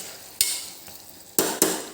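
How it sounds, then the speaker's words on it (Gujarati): Bottle gourd curry stirred in a pot over a low gas flame, soft continuous sizzle broken by several sharp, close scraping strokes of a spoon against the pot. "5 મિનિટ પછી ફરીથી એક વખત એને હલાવી લેવાનું"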